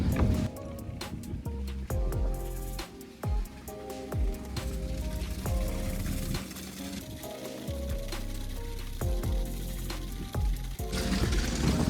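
A boat's fire suppression system runs during a Transport Canada inspection, pumping water out in a steady rushing, splashing flow with repeated knocks and clunks, close and continuous throughout.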